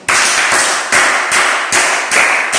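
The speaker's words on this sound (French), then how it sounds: "Applaudissons pour nous." An audience claps together at a French-language motivational talk, loud, steady group clapping that swells in rhythmic waves about every half second, with no voices over it.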